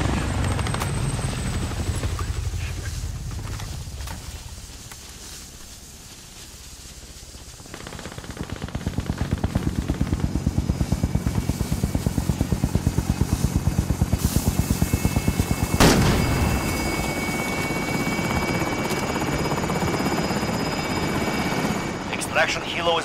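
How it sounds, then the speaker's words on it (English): Helicopter rotors in Call of Duty: Modern Warfare as an extraction chopper arrives, a fast steady chop growing louder and close for most of the stretch, with bursts of gunfire and a boom mixed in and some radio-style talk. "Extraction helo is ready for pickup."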